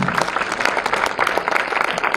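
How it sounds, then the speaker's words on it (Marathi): Applause from an audience at a state-level one-act play competition prize ceremony, dense clapping filling the hall throughout, loud and steady with no break. "जोरदार टाळ्या होणार"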